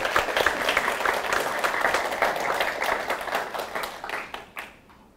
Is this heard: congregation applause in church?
yes